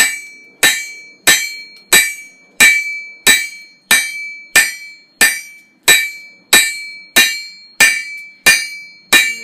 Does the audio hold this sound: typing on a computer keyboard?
no